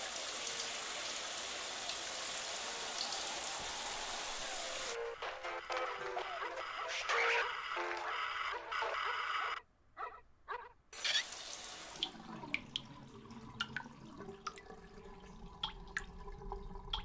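Steady hiss of a shower running in Parasite Eve 2, loud and continuous for several seconds, then cutting out into quieter dripping, scattered taps and low ambient noise.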